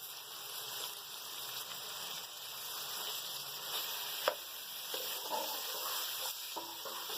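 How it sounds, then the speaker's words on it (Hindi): Whole spices, cumin, bay leaf, cinnamon, crushed cloves, cardamom and black pepper, frying in hot oil for qeema matar, giving a soft, continuous sizzle with faint crackles and an occasional stir. "अब इसे हम थोड़ा सा 1 मिनट तक भूनेंगे।"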